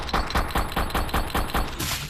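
Rapid bursts of video game gunfire during a boss fight, roughly eight evenly spaced shots rattling out in a steady rhythm, loud and close, with no talking over them.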